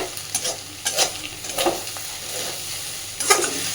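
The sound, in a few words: fish fat frying on medium flame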